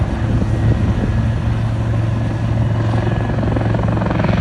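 A navalised Wildcat military helicopter flies a display at the Bournemouth Air Festival, its loud, steady rotor thump and turbine roar filling the whole stretch without a break.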